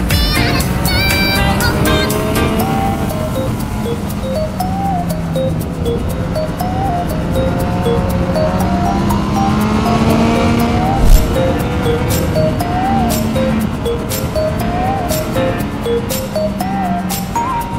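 A car overtakes on the road during a road trip toward Switzerland, a loud continuous engine drone from inside the vehicle whose pitch climbs and sweeps as it accelerates, with no talking.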